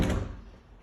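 A closet door holding a stackable washer and dryer opens with a single soft thunk at the start that fades out quickly and quietly.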